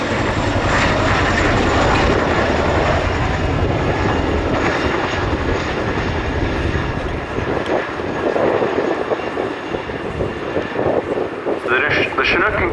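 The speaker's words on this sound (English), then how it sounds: "Chinook is used in operations moving stores, freight and vehicles everywhere from Afghanistan to Whaley Bridge." An RAF Chinook helicopter flies past carrying an underslung quad bike at a Cosford role demonstration, its deep, loud rotor and engine roar continuous throughout, with a commentator's voice running over it.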